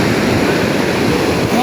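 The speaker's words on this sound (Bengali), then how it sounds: "अब दो खतरनाक से लहर आ रहा है इन सब का बैंड बजाने।" Night surf on the beach at Puri, Odisha, a steady, close wash of ocean waves that fills the whole stretch without a break.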